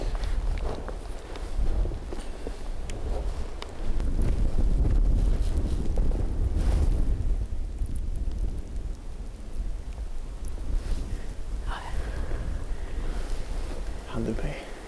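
Strong wind gusting across an exposed slope on a coastal-to-mountain hunting trip, a continuous rough roar buffeting the microphone with surges and lulls, plus some faint footstep-like crunches.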